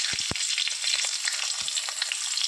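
Green chillies fry in hot oil with black cumin (kalonji), giving a dense, continuous crackling sizzle. A few low thumps sound at the start.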